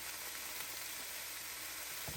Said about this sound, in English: we're just going to cook this down for a minute until these vegetables start to get tender